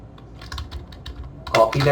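Computer keyboard keys tapped in a quick irregular series of light clicks, ending in a louder cluster of presses for a Ctrl C copy shortcut, with a voice talking over it.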